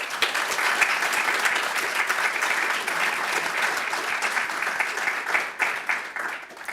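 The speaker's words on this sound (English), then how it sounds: "A round of applause for them." Audience applause for a panel at a First Nations climate action forum: steady, dense clapping from a seated crowd, moderately close and sustained throughout, with no talk over it.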